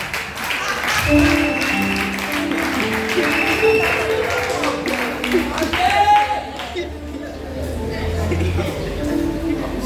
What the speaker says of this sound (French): applaudissez pour moi quand même